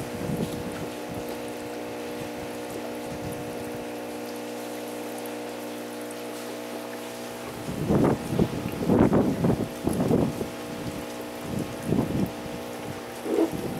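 A Hsun Feng foot spa bath machine runs with its bubble jets on, giving a steady low water hum and then a rush of gurgling, splashing bubbles.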